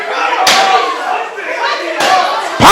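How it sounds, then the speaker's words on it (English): A wrestler in an indie pro wrestling match repeatedly strikes his opponent with a steel chair, two loud sharp impacts ringing out over crowd noise and commentary. "Oh my God, with the chair shots."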